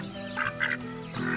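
Ducks owned by a village uncle quack in a few short, close calls spread across a brief moment, with a steady background hum and no speech.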